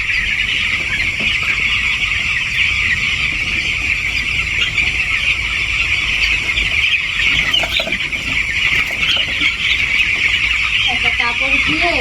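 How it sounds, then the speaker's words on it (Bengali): Many young chickens cluck and chatter continuously in a dense flock, a steady busy din with occasional louder squawks close by. "সব মুরগি এইদিকে চলে যাচ্ছে"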